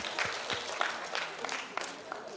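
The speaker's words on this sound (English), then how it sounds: "Can you give a big clap again?" Audience clapping at a sales training session in a hall, a fairly quiet patter of individual claps with distinct sharp hits rather than a full roar, steady across the moment.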